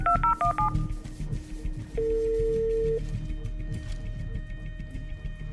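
Touch-tone beeps from a telephone being dialed come in a quick run of short tones, followed by a longer steady tone and fainter pulsing ring signals, heard close and without talking.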